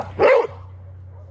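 A dog gives a single sharp bark nearby over a steady low hum, followed by a faint start of another sound at the end.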